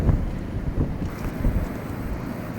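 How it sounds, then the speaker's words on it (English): Strong, chilly wind blows across Bournemouth beach and buffets the microphone, making a loud continuous low roar with gusty swells and no voices. "It's a little chilly in the wind, and the wind is quite strong."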